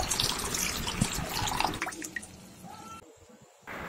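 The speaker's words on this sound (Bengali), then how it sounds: "মশলাটা থেকে তেল ছেড়ে এলে দিয়ে দেব পরিমাণ মতো জল।" Water is poured into a pan of cooking spices for a mustard pabda fish curry, a close, bubbling splash with dripping that tapers off, followed by a short quieter stretch.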